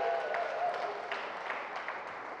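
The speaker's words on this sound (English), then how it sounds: "Let's give a round of applause to that" An audience at an entrepreneurs' demo day event claps politely, a moderate patter of hands that slowly tapers while a faint tonal hum sits beneath.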